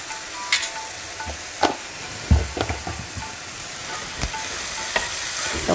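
Tomato and onion fry in a pan with a pinch of salt for Karnataka methi rice bath, a continuous soft sizzle broken by scattered scraping knocks of a stirring spoon.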